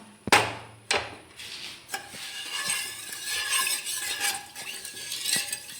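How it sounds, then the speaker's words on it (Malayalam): A couple of loud knocks against a pot, then a spoon scraping and stirring milk payasam steadily around it, with a light sizzle underneath. "ഇളക്കി കൊടുക്കാം നന്നായിട്ട്"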